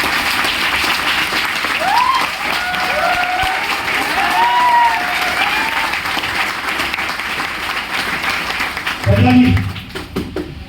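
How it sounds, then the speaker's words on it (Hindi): An audience applauds for a senior at a training session in Gurgaon, Haryana, a dense, continuous wash of clapping, with a voice speaking over it and a louder burst near the end. "एक बार तालियां चाहता हूं मेरे सीनियर के लिए"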